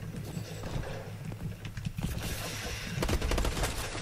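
Gunfire in the video game Call of Duty Advanced Warfare, bursts of rapid automatic shots and scattered single cracks at moderate volume, with no speech.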